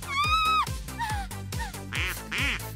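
Cartoon ducklings quack in a quick series of bright, nasal calls, loud and close, with a few overlapping squawks and no talk.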